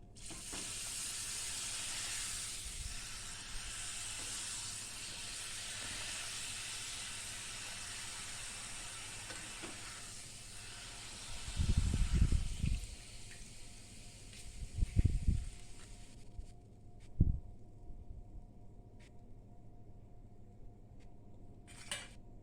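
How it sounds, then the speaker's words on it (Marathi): Homemade urad and moong dal papad frying in hot oil in a small kadai, a steady sizzle that fades partway through, with a few louder clattering bursts of utensils on the pan. "आता आपण तळून बघूयात कसे होतात ते"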